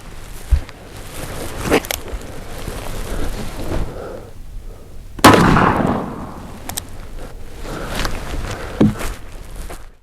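Taurus Model 44 .44 Magnum revolver with a 6.5-inch barrel fired outdoors, a few sharp, heavy reports spaced seconds apart amid quieter handling noise, with no talk.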